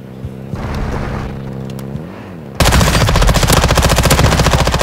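Dense automatic gunfire in the Call of Duty Modern Warfare video game, a loud rapid burst that cuts in sharply after a quieter stretch of game ambience and keeps rattling to the end.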